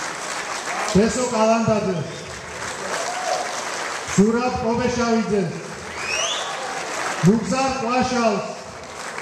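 An audience applauds Georgian star guests at a concert in Chkhorotsku, the clapping running as a broad wash beneath an announcer who keeps speaking throughout.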